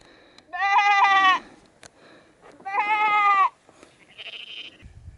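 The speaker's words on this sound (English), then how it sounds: "Do you remember when you started talking to the sheep?" Sheep in the Pyrenees giving two long, loud wavering bleats close by, then a shorter, higher bleat, with quiet pauses between them.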